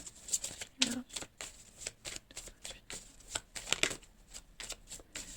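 Tarot cards being shuffled and cut by hand at a table: a series of soft, crisp riffling slaps and flicks in an irregular rhythm, close and fairly quiet, with no talking.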